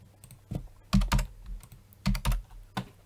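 Scores being entered on a computer keyboard into golf handicap software: a few quick clusters of close, clicky keystrokes separated by short pauses, with no talking.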